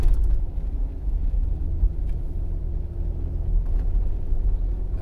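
A two-wheel drive van without chains but on snow tires drives a snowy mountain road near the Shiga Kogen ski areas, giving a steady low engine and road rumble inside the cabin with no talk.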